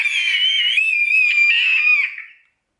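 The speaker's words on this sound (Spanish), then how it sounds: "A mí no me gusta cuando gritas" A baby lets out one sustained, loud, high-pitched scream lasting about two seconds, close by, before it trails off into silence.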